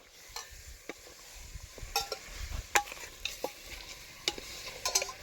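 Mutton with turmeric frying in a pan, a low sizzle under repeated sharp scrapes and clinks of a spoon stirring the meat, the strokes irregular and close by.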